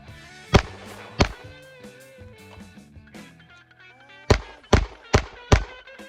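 Pistol shots fired during a F.A.S.T. drill: two sharp reports early, then a quick string of four rapid shots, loud and close, with musical background tones between them.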